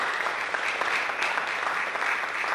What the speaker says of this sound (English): Let's give all of our sponsors a big round of applause.